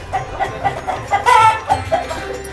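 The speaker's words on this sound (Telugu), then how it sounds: "పొద్దున ఎప్పుడో 6 గంటలకు కూయాల్సింది సాయంత్రం 4 గంటలకు కూస్తుంది." Farm poultry with ducks and pigeons nearby, where chickens cluck in quick repeated bursts and a rooster gives a short loud crow mid-way, close and clear with no talk.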